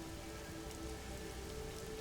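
Steady rain falling outside an open front door at night, a dense even hiss of drops with no pauses, fairly faint throughout.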